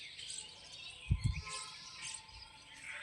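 Sparrows chirp faintly while rice grains are scattered for them, with thin twittering calls in the background and a couple of soft low thumps near the middle.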